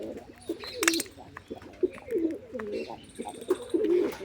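Pigeons coo repeatedly at close range while feeding on scattered grain, their soft rolling calls recurring in a steady rhythm with brief sharper chirps and a faint voice now and then.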